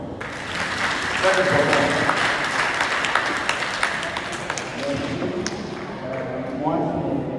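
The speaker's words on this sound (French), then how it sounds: "Applaudissons" Audience applause following a motivational speech, a broad wash of clapping filling most of the stretch, with voices talking over it and rising near the end.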